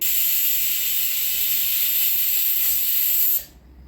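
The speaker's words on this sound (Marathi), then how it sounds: "कुकरच्या शिट्ट्या होत आहेत" A pressure cooker on the stove, cooking idli batter preparations, lets off a loud continuous high-pitched whistle and steam hiss that holds steadily for several seconds, then cuts off abruptly, leaving quiet background.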